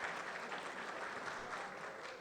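Audience applause at a science presentation on Black hair, steady hand clapping from a seated crowd, fairly faint and even for about two seconds with no talk over it.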